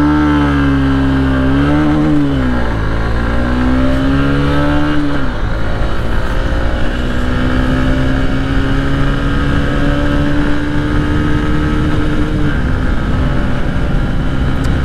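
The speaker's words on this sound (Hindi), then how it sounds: "फोर्थ गियर में आ गई अपनी बाइक 89-90।" A Honda SP 125 motorcycle accelerates hard through its gears, its engine whine climbing in pitch, dropping at each shift around two and five seconds, then rising steadily again under strong wind rush, loud and close.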